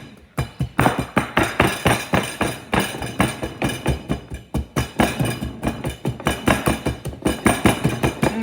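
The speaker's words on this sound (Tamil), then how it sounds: "நான் இஞ்சி இடிக்க போகிறேன்" Fresh ginger is pounded by hand in a mortar rather than a grinder, giving sharp, regular thuds in a steady rhythm that repeat dozens of times up close with no talking.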